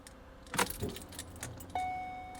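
Car keys jangle close by while the ignition key is cycled in a car whose power steering is still tight after a rack and pinion replacement, followed by a steady electronic chime tone.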